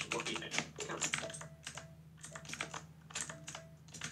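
Someone types on a computer keyboard in quick clusters of close, crisp key taps, with short pauses between bursts and a faint hum underneath.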